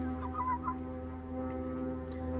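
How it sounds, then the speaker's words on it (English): Chickens kept by a backyard owner cluck softly and briefly over a steady low hum, a few faint calls in the first half against a quiet background. "since then we got these type of chickens"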